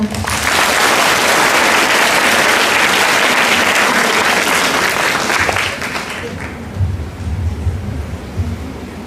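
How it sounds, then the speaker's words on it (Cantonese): Loud, dense applause from a large school audience in a hall welcoming a speaker at a religious-week event, sustained for several seconds before thinning out. "而家讓我哋以熱烈嘅掌聲歡迎李守正先生。"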